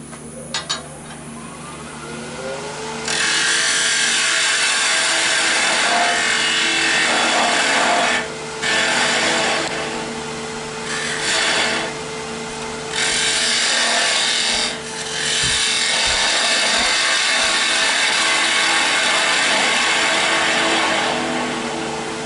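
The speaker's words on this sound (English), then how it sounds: "I will use the diamond tip parting tool to remove that little piece at the end." A diamond tip parting tool cuts into a small yew hollow form spinning on a woodturning lathe, giving a loud, steady scraping and rasping that runs in sustained bursts with brief pauses between cuts.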